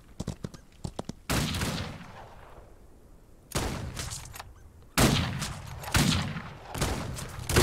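Bandits firing double pistols in the Western game Outlaws of the Old West, several quick crackling shots followed by loud bursts of rapid overlapping gunfire with short pauses between volleys.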